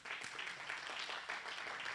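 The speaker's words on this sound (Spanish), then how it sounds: "Denle un fuerte aplauso a su vecino." Applause from a church congregation during a sermon, a soft, continuous patter of many hands clapping, heard at a distance and fairly faint, with no talk over it.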